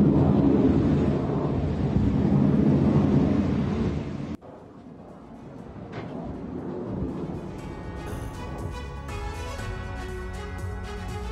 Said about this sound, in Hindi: गश डैन पर रॉकेट से बारिश की गई है और विध्वंसक हमले का वीडियो भी सामने आया